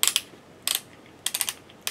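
Ratcheting dial on the back headband of a DIY facial motion-capture helmet clicks in three quick bursts of sharp, close ticks separated by brief pauses.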